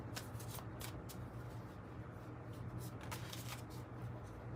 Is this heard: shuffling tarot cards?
yes